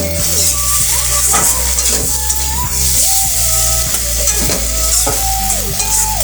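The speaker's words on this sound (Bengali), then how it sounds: "আমি মশলা ভালোভাবে লতির সাথে মিশিয়ে নিয়েছি তো কিছুক্ষণ আমি এই মশলার সাথে লতিটাও রান্না করে নেব" Taro stolons (kochur loti) frying with spices in a pan, a loud steady sizzle with repeated scraping stirs throughout, close and alone with no talk.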